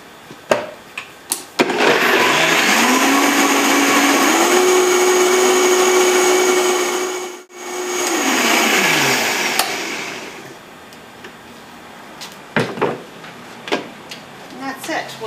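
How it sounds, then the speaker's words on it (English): A kitchen blender whirs loudly and steadily for about nine seconds, pitch rising then holding, as it purees a tamarind dipping sauce with an inch of fresh ginger, with brief clatter before and after. "Then we blend it."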